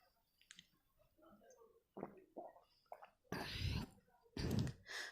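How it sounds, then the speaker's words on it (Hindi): A person drinks water in a quiet room, with soft clicks and small sounds followed by two louder, close gulping bursts near the end. "पानी पी लेती हूँ।"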